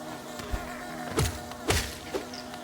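Bees in Hollow Knight give off a steady faint buzz beneath several soft thuds and sharp ticks spaced across the moment.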